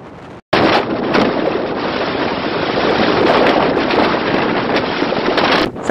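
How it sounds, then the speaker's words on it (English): Loud wind roars during a coastal storm, a steady, close blast buffeting the microphone for several seconds after a brief dropout, then easing at the end. "That was how loud the wind was."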